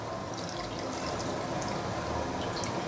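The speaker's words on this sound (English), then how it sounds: "then I'm going to put this in the cold water" Cooked noodles for roast pork noodles are dipped into cold water, giving a steady close wash of sloshing and trickling water with light dripping throughout.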